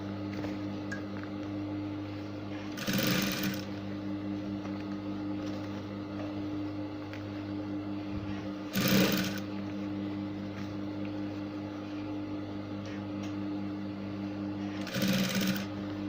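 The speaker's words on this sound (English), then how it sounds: "as I'm sewing the second layer right now, automatically it has covered what I have on the front layer" Sewing machine stitching a ruffle layer onto a blouse, a steady close mechanical hum broken by three short bursts of faster stitching spaced several seconds apart.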